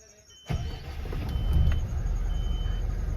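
A Mercedes-Benz truck engine catches and settles into a steady, loud low rumble after starting, close by, with a faint voice nearby.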